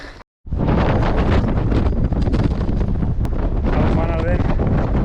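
Strong wind buffeting at the summit of the Santa Ana volcano, a loud continuous rushing roar across the microphone after a brief dropout, with a faint voice partly masked underneath.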